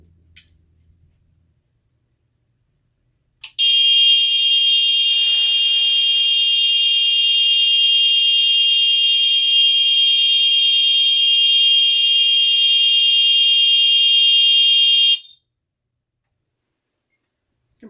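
An Edwards Genesis fire alarm horn on a FireShield Plus panel sounds a loud, steady high-pitched electronic tone with a slight waver, lasting about twelve seconds before cutting off abruptly.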